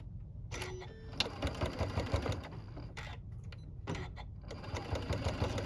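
A sewing machine stitches through the thick layered seams of a reusable fabric microwave popcorn bag, running in steady bursts with brief pauses, close and fairly loud, with no talk.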